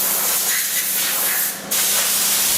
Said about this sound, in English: Then we blow all the dust off the chassis